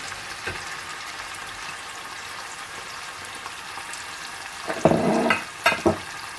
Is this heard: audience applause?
no